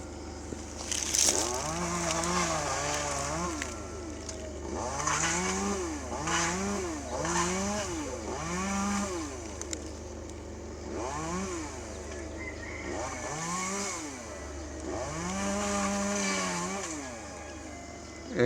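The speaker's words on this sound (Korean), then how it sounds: "크레인 자체가 엔진톱이 설치돼 가지고 크레인 엔진톱으로 썰면서" A crane-mounted chainsaw, operated with no one aboard, cuts a large tree beside a house. Its engine revs up and down in a steady series of surging, whining pulls, loud and close throughout, with no talking.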